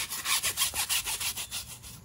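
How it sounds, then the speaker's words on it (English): Stiff bristles of a curved tire brush scrub back and forth across pickup truck tires, a steady rhythmic series of close, raspy strokes about four per second with no talking. "I'm gonna go ahead and give the tires a little bit of a scrub."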